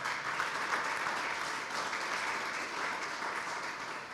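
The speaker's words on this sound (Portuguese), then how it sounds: "Vamos aplaudir o Senhor?" A church congregation claps in praise of the Lord during a sermon, a soft, even wash of applause that continues without a break.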